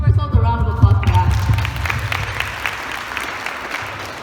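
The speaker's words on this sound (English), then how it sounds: "Let's give ourselves a round of applause for that." A group bursts into applause at a women's empowerment gathering, clapping rising after a moment of voices and then holding as a lively, fairly loud patter of many hands that thins slightly toward the end.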